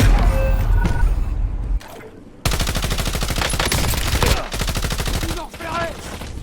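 Rapid automatic gunfire in the video game Call of Duty Warzone, long dense bursts of shots with a brief pause, loud and close, followed by scattered single shots.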